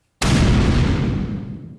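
Explosion sound effect depicting a supernova: one sudden, loud, deep boom that strikes hard and rolls off in a long fading rumble, heard alone.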